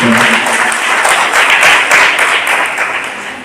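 Applause at a Basava Kendra event for a Vachana recitation and writing competition with over 600 students, a steady dense wash of clapping from a crowd that carries through the whole stretch, loud and close with no voices.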